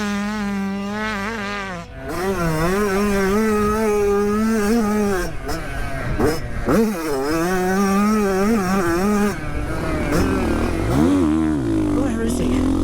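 A 450 four-stroke motocross bike racing: a loud, close engine rising and falling in pitch as it revs through gears, with a higher buzzing engine overlapping, and a voice talking over it.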